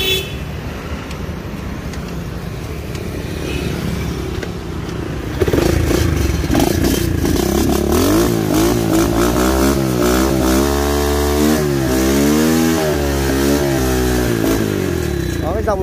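Kick-start-only motorcycle engine, a budget used bike, catching and revving for a test: a steady low idle that jumps louder midway, then rises and falls through repeated rev swells, fairly close with a faint voice in the background.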